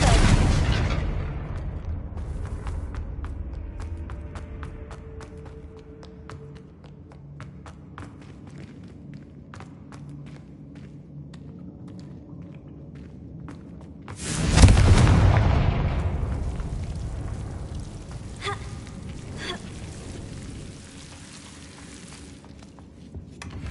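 Confringo explosive spell blasts in Hogwarts Legacy: a heavy booming detonation opens, then quieter crackling and footsteps, before a second loud blast with a rumbling tail fades away.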